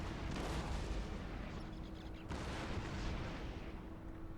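Artillery fire in a Napoleonic battle video game, a dense rumbling barrage of booms and distant gunfire blended into a continuous roar, fairly faint throughout.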